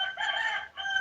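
A neighbour's rooster crows once from nearby, a clear, ringing cock-a-doodle call with a brief break before its final drawn-out note, heard alone.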